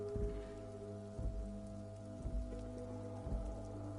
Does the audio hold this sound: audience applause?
no